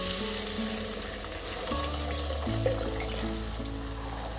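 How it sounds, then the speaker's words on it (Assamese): Hot water poured into a frying pan where fish curry ingredients have been fried, giving a loud, continuous sizzle and rushing pour with steady tonal bubbling throughout, close and without talk. "এতিয়া পানী গৰম কৰি ৰাখিছোঁ, পানীখিনি মই ঢালি দিম।"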